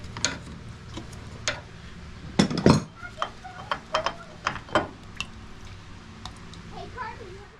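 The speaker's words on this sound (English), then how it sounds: "we're gonna get this filter off" Metal clinks and clanks sound as an oil filter is worked off a Cub Cadet XT1 lawn mower one-handed after the oil is drained, with irregular clicks and a heavier clatter partway through, close up in a quiet space.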